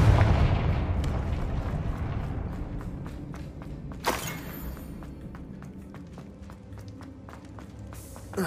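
The Confringo explosive spell cast in the video game Hogwarts Legacy: a heavy rumbling blast that fades slowly, then a sharp crack and scattered impacts follow.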